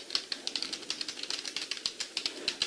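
Rapid, irregular clicks of typing on a computer keyboard, close and fairly quiet, about two dozen keystrokes in quick bursts with no talking.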